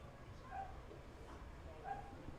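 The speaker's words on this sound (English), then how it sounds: "Some unhappy dogs here in the ballpark" Unhappy dogs barking in a baseball ballpark, two brief distant yips about a second apart over a constant background murmur.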